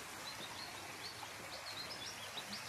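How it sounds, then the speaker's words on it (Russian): Faint, scattered bird chirps in the upper range over a steady background hiss of a nearby river, early morning in Partenit, with no talking. "Птички поют."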